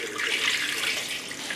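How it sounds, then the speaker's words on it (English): Water pours steadily in a brief continuous splash into a pan of marinated beef short ribs with onion and carrot, close and fairly loud, with no talk. "we're gonna add some stock or just plain water is fine."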